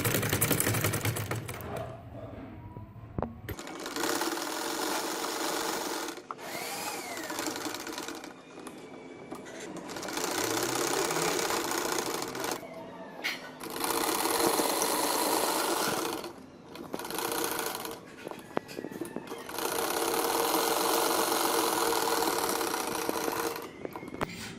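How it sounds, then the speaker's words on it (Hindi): Sewing machine stitching a baby boy's salwar, rapid mechanical whirring in several runs of a few seconds each, separated by brief pauses and small handling clicks. "अब मैं इसकी सिलाई करने लगी यहाँ से और शलवार मुकम्मल हो।"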